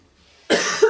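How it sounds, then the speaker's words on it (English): A single harsh cough bursts out close to the microphone, followed by a second short throaty cough right after it. "That was a full-on coughing fit that happened then."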